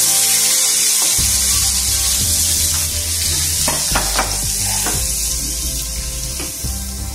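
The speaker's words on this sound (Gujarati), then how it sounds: "આ વઘારને આપણે ડાયરેક્ટ જ પાઉંભાજીના શાકમાં ગેસ બંધ કરી દઈશું, પેલા પાઉંભાજીના શાકમાં નાખીશું" Hot spice tempering poured into pav bhaji vegetables with the gas switched off, a loud burst of sizzling followed by repeated scraping stirs in the pan, no one talking.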